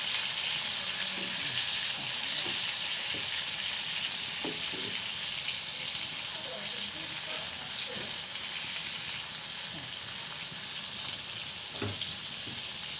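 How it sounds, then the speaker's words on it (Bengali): Shrimp frying in a pan, a continuous sizzle with scattered soft clicks and scrapes as the pieces are stirred and flipped, close and steady. "এখন পুরোপুরি মাছটা ভাজা হয়ে গেছে। এখন আমি এটা উল্টায় দেবো আবার।"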